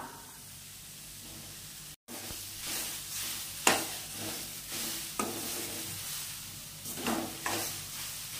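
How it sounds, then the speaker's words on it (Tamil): Vegetable and bread pieces stirred together in a hot pan for a healthy veg roll filling, giving repeated scraping swishes with a faint sizzle underneath, steady and close with no talking. "எடுத்து வச்சிருக்க இந்த பிரெட் பீஸையும் சேர்த்து கலந்துக்கலாம்."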